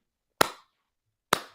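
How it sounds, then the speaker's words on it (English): Two sharp, close hand claps, spaced almost a second apart in a deliberate slow-clap rhythm, ring out over near silence. "Can we get a slow clap for Naomi?"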